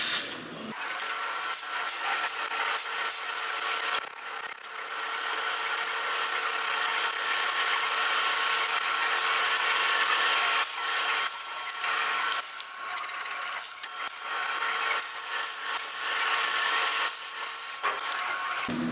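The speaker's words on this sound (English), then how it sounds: "I made a mess of that trying to drill it bigger with another drill bit I had" Metal being drilled with a drill bit in a home workshop while building a wobbler steam engine, a steady, harsh grinding whir lasting throughout with brief dips and catches in the cut; no talking.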